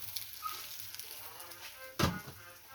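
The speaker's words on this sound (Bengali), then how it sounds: "মাছ ভাজা হয়ে গেল, মাছের মাথা ভাজা" Fish head frying in oil gives a steady close sizzle and crackle, with a sharper burst of spattering near the end.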